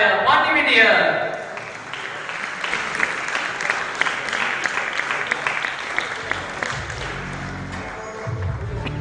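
Audience applause at a school annual commerce day event, a dense burst of clapping at the start that settles into steady crowd noise and scattered claps, with a voice speaking over it.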